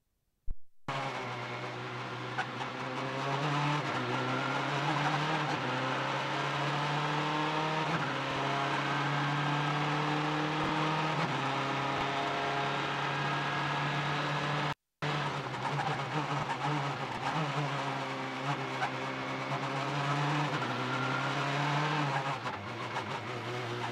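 Race cars lap the Belle Isle Grand Prix circuit in a steady, loud stream of layered engine roar, with rising and falling revs as cars pass. A brief dropout cuts in midway, then the din continues.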